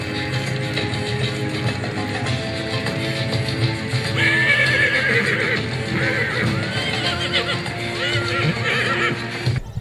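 Cold-blooded draft horses in a full stable at a breeding show whinny and neigh repeatedly over a busy background of hoof clatter, movement and faint voices.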